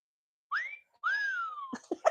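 Two rising, sliding whistled notes from one person, the second held longer and drifting down, followed by a few short clicks.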